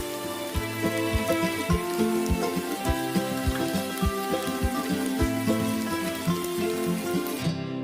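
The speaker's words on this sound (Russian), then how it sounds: "Идет дождь, он идет постоянно, я весь уже мокрый практически." Steady rain pours down on a camp by the Dniester River in Moldova, a dense hiss with scattered louder drops and rhythmic thumps running underneath.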